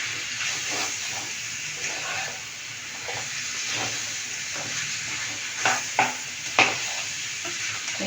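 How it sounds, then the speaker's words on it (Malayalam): Chicken curry mixture in a pan, with no water added, is stirred as it fries, giving a steady close sizzle with a few sharp scrapes and knocks from the spoon near the end. "ഇതൊന്ന് മിക്സ് ആക്കുക."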